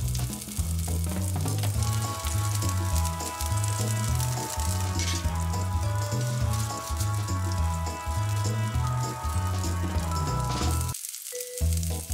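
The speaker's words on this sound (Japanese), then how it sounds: "皮をむいた長芋は1センチくらいの半月切りにして、一緒のフライパンで焼きます" Half-moon slices of peeled Chinese yam sizzle and crackle steadily in a frying pan, a dense, close frying hiss under music, with a brief drop-out near the end.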